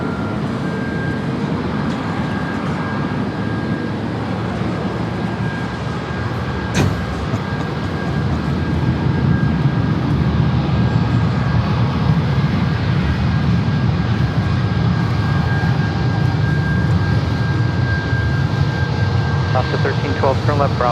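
An airliner on final approach to runway 27 at San Diego airport passes with a sustained engine roar that swells partway through and stays loud, with people talking faintly beneath the noise.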